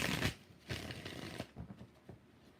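A deck of tarot cards shuffled in several quick riffles and bursts, close and fairly quiet, with brief pauses between the papery flurries.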